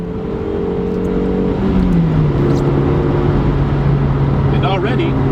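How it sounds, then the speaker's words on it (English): A 2009 Suzuki SX4 Sport Sedan's 143 hp 2-liter inline-4 hums loudly from inside the cabin, the pitch dipping at a gear change before settling into a steady cruising drone. "The 143 horsepower 2-liter inline-4 produces a throaty, more burly note than the high-winding, but admittedly more fun-to-drive Honda."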